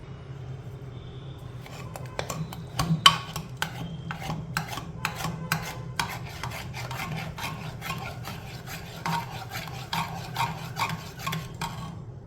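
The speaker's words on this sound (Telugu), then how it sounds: "ఉప్పు వేసుకుని బాగా మెతుకుందాం" Cooked chukkakura pappu, a dal with greens, is mashed with salt in a pot, a rhythmic series of soft scraping and rubbing strokes over a low background hum, with no talk.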